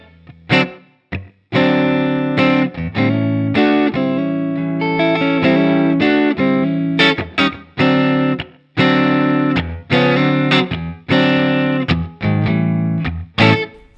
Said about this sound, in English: Another very important feel is a swing, or also called shuffle feel